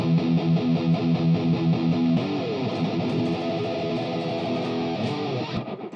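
Fast alternate-picked metal rhythm guitar notes, distorted and partly palm-muted, running continuously with a choppier, more clipped texture in the second half.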